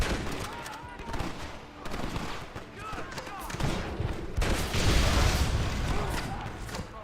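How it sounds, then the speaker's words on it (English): Gatling gun fire in Red Dead Redemption on Xbox One, shooting from a ridge: bursts of rapid gunfire roll in and out, growing heavier toward the end, with game voices and effects mixed in. "Marston, use that Gatling gun."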